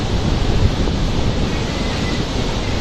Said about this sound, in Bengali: দেখুন দূর থেকে কিভাবে ঢেউগুলো তীরে আসতেছে।